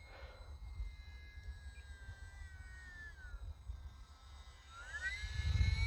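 FPV drone buzzing in flight with whining, pitch-shifting motor tones that rise and fall, moderately near, with low wind rumble and a louder burst near the end.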